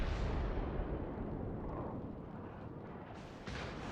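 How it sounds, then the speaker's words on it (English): Naval gunfire in World of Warships around the Yamato and other ships: a dense, rumbling roar of heavy cannon fire and explosions that swells and fades, with a fresh blast near the end. "Clyde here is under fire from quite a few ships"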